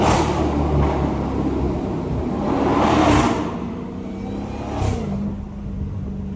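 A Dodge SRT Hellcat engine droning steadily while driving, swelling into a louder revving pull around the middle and a smaller surge later, heard from inside the car with no talking.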